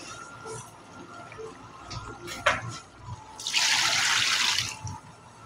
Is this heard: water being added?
yes